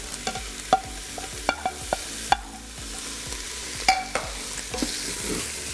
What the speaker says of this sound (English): we're just gonna add the mushrooms and onions just right back in.